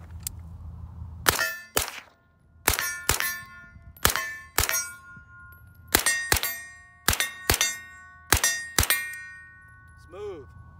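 Six quick pairs of sharp shots from a 9mm AR rifle with a 16-inch upper, each pair followed by a bright metallic ring like struck steel, spaced a second or so apart, ending with a faint chirp.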